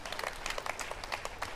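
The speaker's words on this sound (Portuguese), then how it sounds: "Vamos aplaudir a Jesus Cristo!" A church congregation claps in praise of Jesus Christ, a short burst of moderately faint, uneven hand claps.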